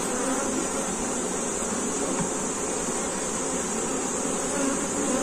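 Honeybees swarm around an opened beehive during an apiary inspection, a dense, steady buzz that fills the air closely and evenly throughout, with no voices.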